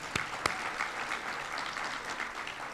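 An audience at a sustainability summit claps together in a full, steady round of applause that stays at an even level throughout, with a couple of louder claps near the start.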